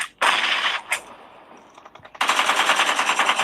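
Rapid automatic gunfire from PUBG Mobile on the Livik map rattles out in loud bursts, a short volley, a single shot, then a sustained string of evenly spaced shots after a brief lull.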